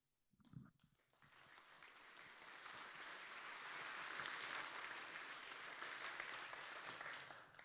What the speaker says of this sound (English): first there is applause, Tony, as you heard